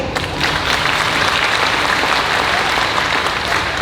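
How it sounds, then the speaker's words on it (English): Audience applause at a film festival Q&A: loud, dense clapping from a crowd, continuous and even for the whole stretch, with no talking over it. "Oh, applause."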